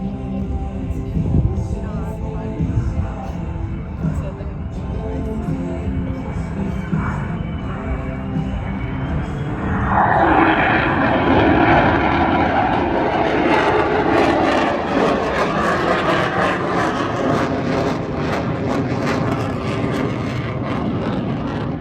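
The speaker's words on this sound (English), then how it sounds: "With the F-35A Lightning II and the FA-18F Super Hornet" F-35A Lightning II and F/A-18F Super Hornet jets at an evening airshow, a distant roar that swells into a loud, close, sustained jet engine blast halfway through as the formation passes.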